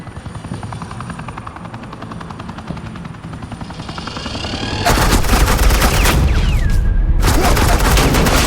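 Heavy suppressing gunfire in a Batman video game: a helicopter's steady rotor drone, then sudden loud sustained automatic fire that drowns everything for several seconds, briefly breaks, and resumes.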